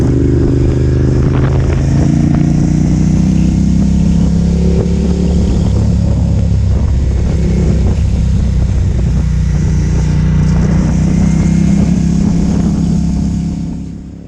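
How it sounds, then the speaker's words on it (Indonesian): Steady, loud motorcycle engine drone with exhaust rumble and wind rush while riding a long-distance touring road from Bengkulu toward Padang in Sumatra, continuous and close throughout, easing slightly at the very end. "Kita banyak dengerin suara motor, suara knalpot, suara angin, dan suara sekitar yang didapat dari kamera"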